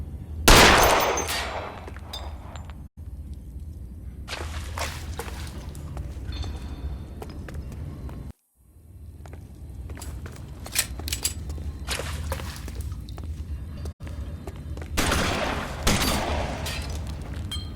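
Video game gunfire in L.A. Noire, with repeated bursts of rapid shots and booms loud and close, broken by brief silent gaps and carrying on throughout.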